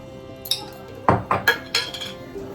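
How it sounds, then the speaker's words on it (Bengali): A kadai is set down on a kitchen stove with several sharp metallic clanks and clinks, close and distinct, followed by a few lighter taps with no talking. "এই কড়াইটা বসিয়ে দিয়েছি"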